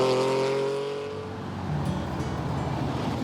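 A Lamborghini Countach engine roars loudly, its pitch falling as it passes, then settles into a rough, throaty drone.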